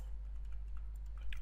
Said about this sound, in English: for the last one I'm just typing success